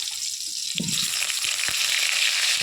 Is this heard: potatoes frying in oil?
yes